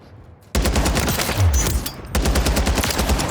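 Rounds fired from a long-range weapon with heavy recoil in the Warzone video game, loud, rapid automatic bursts that start abruptly, pause briefly near the middle, then resume in a second sustained volley.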